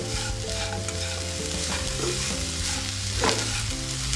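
Jaggery is stirred and cooked in a pan for a modak filling, giving a steady close-up sizzle with continuous scraping stirs under a constant background hum.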